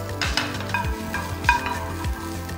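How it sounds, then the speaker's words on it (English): Capsicum and onions sizzle and fry in a pan while a utensil stirs them in repeated scraping sweeps, close and steady, with a few light clinks against the pan. "Time to add our onions. Okay, give this a good stir."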